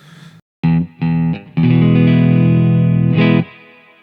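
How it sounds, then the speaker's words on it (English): A Fender Stratocaster on its neck pickup played through a Victory DP40 guitar amplifier: a few short plucked notes, then a chord that rings out for about two seconds before it is cut off and a short tail lingers. "this is the Stratocaster on the neck pickup"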